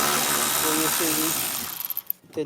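A 10mm socket ratchet loosens plastic engine shield bolts on a 2018 Kia Sportage, heard as a short close burst of mechanical clicking and whirring that fades into quieter handling sounds.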